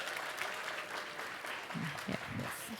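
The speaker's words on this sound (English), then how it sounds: "Give her a big applause." Faint, continuous applause from an audience welcoming a young presenter from Germany at a science symposium, a soft even wash of many hands with a brief low murmur near the end.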